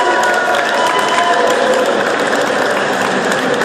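A crowd at a wrestling match applauding steadily, dense clapping with some cheering mixed in, sustained and fairly loud throughout.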